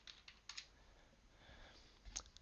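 Keys tapped on a computer keyboard to enter a command, a few quiet scattered clicks with brief pauses between them, faint and close.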